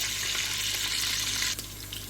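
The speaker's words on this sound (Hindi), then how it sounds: "अब इसमें गोश्त डालती हूँ" Beef for shami kabab goes into hot oil with a loud, steady sizzle and hiss of frying close by, dipping slightly near the end. No speech is heard.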